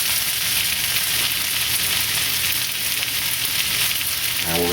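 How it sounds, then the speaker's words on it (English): Steak seared on a hot fajita plate coated with cooking spray gives a loud, continuous hiss and crackle that stays close and steady throughout with no voices. "I put a little bit of Pam to get the sizzle sound and everything"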